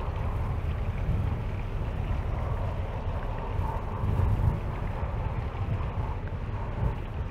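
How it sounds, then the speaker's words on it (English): Strong wind buffeting a handheld microphone near Great Lakes freighters, a loud, continuous low rumble with gusty swells, no talk. "Ooh, that wind is pushing on me."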